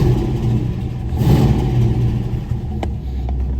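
A Box Chevy's engine revs loudly and close by, a steady deep rumble that swells and eases, with no talk over it.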